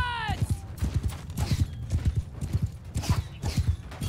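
Rapid clip-clop of horse hooves from a mounted horseman in the Mount and Blade Bannerlord video game, a steady galloping rhythm that runs the whole time, opening with a brief whinny.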